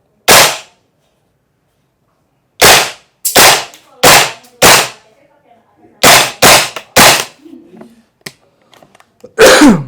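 Sharp gunshots crack out one at a time, loud and close, with a short volley in the middle separated by brief silences.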